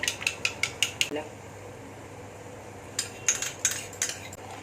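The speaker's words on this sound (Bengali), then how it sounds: "এবার আমি একই সাথে এর মধ্যে টক দইটা দিয়ে দেবো। তো একটুখানি ফেটিয়ে নিচ্ছি আর কি আমি।" Sour yogurt being whisked in a bowl with a metal utensil: quick bursts of sharp rhythmic clinks and scrapes, a pause, then another run of taps, close and fairly loud.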